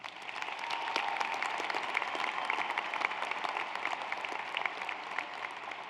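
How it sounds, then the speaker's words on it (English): A commencement crowd gives a steady round of applause, many hands clapping together at moderate volume throughout, filling the hall without letting up for six seconds. "Please give them another round of applause"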